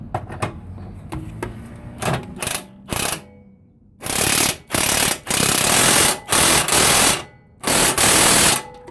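An air impact gun rattles in four loud, hammering bursts on a front lower control arm bolt of a 2001 Honda Civic, after quieter clinking of tools on the suspension.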